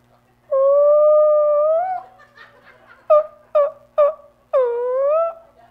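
A person imitates whale song during a church service: long, moaning wails that rise and fall, then three short whooping cries and a final drawn-out swooping wail, close and clear with no other sound.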